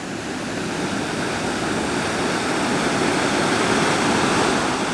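A waterfall beside a campsite on the Continental Divide roars in a steady, dense rush of white water, close and unbroken, with no voices over it.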